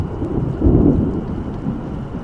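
Thunder from a supercell lightning barrage rumbles loud and deep over steady heavy rain, with one swell in the middle and no voices.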